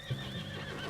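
A spooked horse in Red Dead Redemption 2 gives a short whinny with a snort, close and fairly quiet over a steady background hum.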